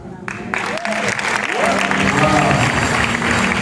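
Sustained applause from a congregation at a church wedding ceremony rises and swells into a dense, steady clapping roar, with voices mixed in.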